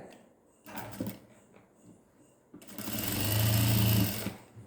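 A sewing machine stitches the shoulder seam of a churidar in two bursts, a short run followed by a longer, louder steady whirr, with quiet pauses between them.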